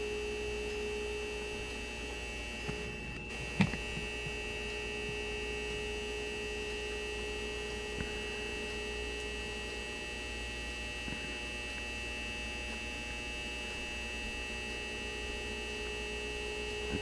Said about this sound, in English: this fixture likes to be noisy all of a sudden